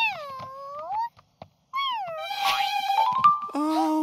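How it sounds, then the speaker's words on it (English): A cat meows in several drawn-out, wavering wails with short pauses between them, close and fairly loud, with a little rustling underneath. "Oh, what a nice kitty."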